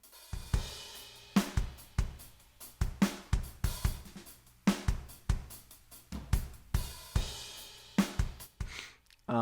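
A full drum groove with steady eighth-note hi-hats over regular kick and snare hits, loud and close, with no voices.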